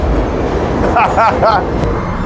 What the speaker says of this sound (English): Oh, the train's not letting us work.